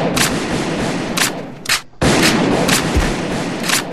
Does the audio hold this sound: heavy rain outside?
no